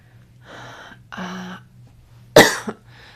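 A person coughs nearby, with a couple of soft breathy throat sounds leading into one sharp, loud cough and a smaller follow-up.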